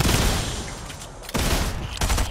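Rapid submachine gun fire bursts in a zombie-hunting video game, dense loud rattling volleys with a brief gap before resuming, then another burst near the end.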